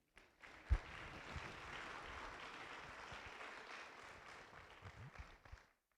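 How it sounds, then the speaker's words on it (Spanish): A congregation claps for the Lord during a sermon, a faint, distant wash of applause that starts with a sharp clap, holds steady, then fades out. "Dale palmas al Señor."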